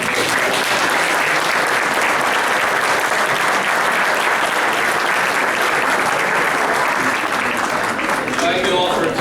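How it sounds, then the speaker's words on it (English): Loud, steady applause from an audience at a chamber of commerce candidates' debate fills the whole stretch without letup, a dense wash of many hands clapping at once. "Let's give one final round of applause."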